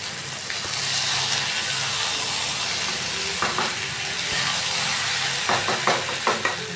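Jackfruit curry hisses and sizzles in a frying pan while being stirred, a steady close frying noise broken by several short scraping knocks near the end.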